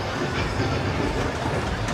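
A small ride-on train rolls along at HamCation in Orlando, a steady, fairly loud rumble of wheels and running gear that holds at an even level without pauses.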